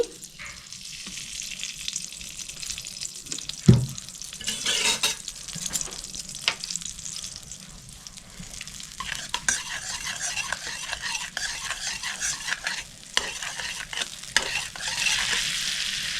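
Butter and a spoonful of white oil sizzle in a hot wok on a gas stove, a continuous close frying hiss broken by repeated scraping stirs and occasional metallic clinks of a spoon.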